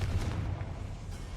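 Confringo fire spell in Hogwarts Legacy bursting as a heavy, low rumbling blast that fills the brief moment, dense and close, with no speech.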